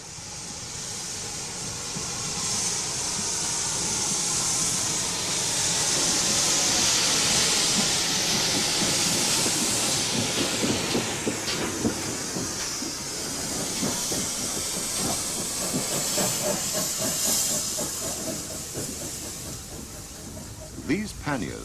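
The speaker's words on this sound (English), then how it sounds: "5700 pannier tank, an example of the most numerous class of Great Western engine" A GWR 5700 class pannier tank steam locomotive hisses steadily with a broad, loud rush of steam, and faint rhythmic chuffing and clanking come through beneath it. Someone narrates over the sound.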